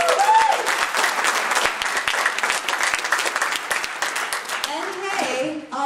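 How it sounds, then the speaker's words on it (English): Audience applause at a Drupal MidCamp keynote, a dense steady wash of many hands clapping close by for several seconds, with a few cheers and voices mixed in toward the end. "Bigger round of applause for that girl."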